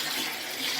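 Water rushing out of a draining water heater tank, a steady, bright hiss of flowing water, close and constant with no pauses.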